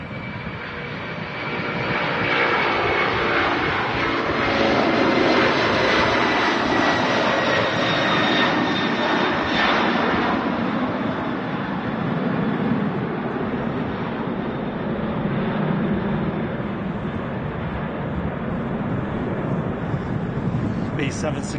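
A TUI Boeing 767 jet at Manchester Airport roars steadily with a broad engine rumble and whine over wind buffeting on the microphone, with a voice talking over it.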